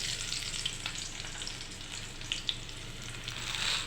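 Garlic cloves frying in hot oil for a tempering, a steady close sizzle with small crackles and pops, no talking.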